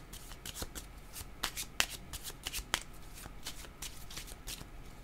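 Tarot cards being shuffled in a series of crisp riffling bursts and soft slaps, close and fairly quiet, irregular in rhythm with brief pauses, no talking.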